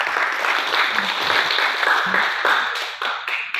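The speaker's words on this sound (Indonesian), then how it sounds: "Tepuk tangan dulu ya." Applause from the crowd at a scout graduation ceremony, brisk clapping that fades and thins toward the end.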